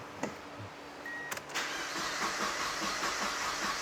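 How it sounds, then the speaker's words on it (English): A Mazda Miata engine with a depressurized fuel line cranks without catching, a steady rhythmic churning of the starter that follows a few brief clicks and goes on loud and close to the end. "try to start the car. And the car may run for a second, but it won't actually start because it's not going to have fuel"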